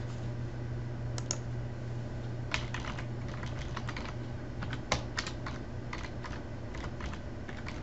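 Login credentials are typed on a computer keyboard: quiet, irregular bursts of key clicks with short pauses between them, heard alone against a faint background hum.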